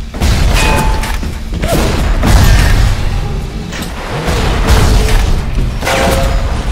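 Gunshots in the video game Bioshock Remastered, heavy booming shots repeating every second or so, loud and close amid clanking mechanical game effects and whooshes.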